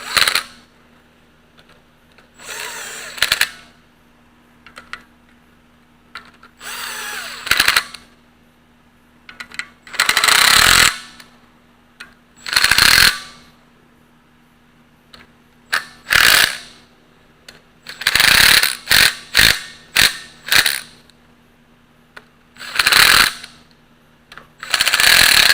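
Bolts being snugged down in a star pattern on a Farmall H tractor engine during a knock repair, heard as repeated loud bursts of ratcheting and clattering tool noise separated by quiet pauses.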